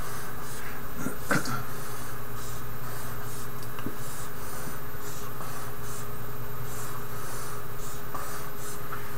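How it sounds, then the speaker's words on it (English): A marker drawing boxes on a board during a lesson on DNA, with faint squeaky scratching strokes in short bursts over a steady low room hum. "And so I'm going to draw the boxes first."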